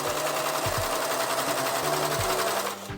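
Overlock sewing machine (serger) stitching fabric at speed, a dense, steady mechanical whir with rhythmic thumps, close and loud, stopping abruptly at the end, with no talk.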